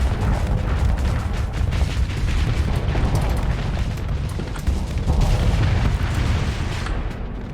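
Torpedo explosions in the space combat game Starsector, a continuous roar of booming blasts and rumbling impacts that stays loud throughout and thins at the very end.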